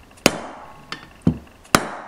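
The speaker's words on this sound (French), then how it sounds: "d'un chasse et du marteau, d'un maillet, vous pouvez le descendre à sa place" A hammer driving a drift to seat a gearbox bearing on a 50cc motorcycle engine, four sharp metallic strikes at uneven intervals, close and loud in a quiet workshop.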